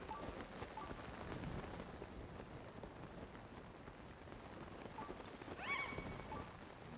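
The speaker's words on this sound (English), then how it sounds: "There's got to be a way to get rid of this storm." Steady rain pours during a storm in The Legend of Zelda: Tears of the Kingdom, a dense, even hiss of falling drops throughout with a brief brighter chime near the end.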